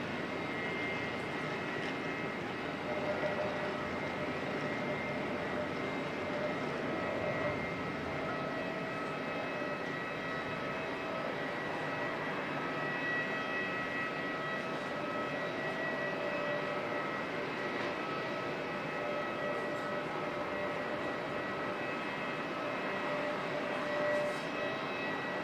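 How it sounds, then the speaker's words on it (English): An Airbus A321 landing at Auckland Airport, a low, sustained jet engine roar heard from a distance, steady and fairly faint with a broad rumbling wash and no speech. "Nice landing with the"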